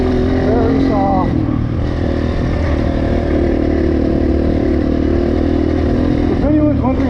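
Enduro dirt bike, a Honda CRF or KTM class single-cylinder, riding through very soft sand, the engine droning loud and constant with small revving surges and wind rumble, while a rider talks over it throughout.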